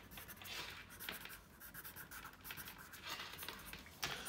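Quick pen strokes scratch across paper while a car's front view is roughed out, a steady close-up scribbling texture with short bursts and brief pauses, no voices.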